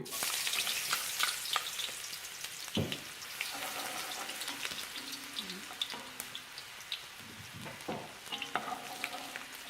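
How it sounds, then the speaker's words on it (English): Shallots sizzle in a pan for pork fried rice, a soft, steady frying hiss broken by intermittent scraping and stirring clicks, faint and close with no talk. "I want to brown the shallots first."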